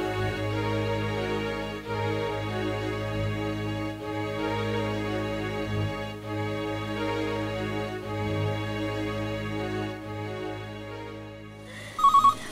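A telephone ringtone sounds in a Bangla comedy drama scene: a steady, melodic ring holds at even loudness for about twelve seconds, then ends in a few short, sharp beeps. No one speaks.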